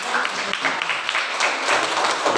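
Loud, close applause from a group during a health lesson on diarrhea, a busy, continuous patter of clapping with a few sharper individual claps standing out, filling the short moment.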